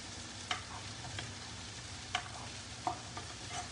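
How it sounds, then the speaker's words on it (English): Noodles tossed in a hot pan, a soft continuous sizzle broken by a few sharp clacks of utensil against metal, close and quiet with no voices. "We want to give this noodles a toss"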